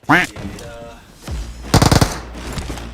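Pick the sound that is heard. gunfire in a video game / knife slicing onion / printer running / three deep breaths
gunfire in a video game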